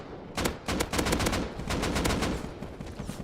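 Rapid bursts of AK rifle fire in the video game Rust, a loud close string of repeated shots with short gaps, no talking.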